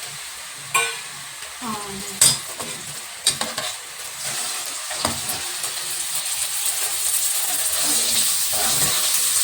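Two medium-sized tomatoes go into a hot frying pan for a spiced egg and onion dish, setting off loud hissing sizzle with a few sharp clatters and stirring noises, the frying steadying into a continuous hiss while someone speaks briefly.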